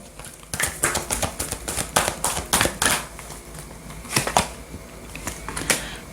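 Oracle cards being drawn and laid down for a tarot reading, a run of crisp, uneven taps and slaps of card stock on a surface, close and fairly loud, clustered in quick bursts with short pauses between them.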